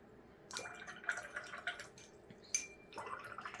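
A paintbrush rinsed in a water cup between watercolor swatches, faint close sloshing and dripping in short bursts with small splashy taps, alone and quiet.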